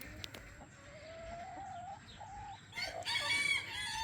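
Backyard chickens cluck and call at close range in an outdoor run, with a brief louder burst of squawking near the end; no one talks.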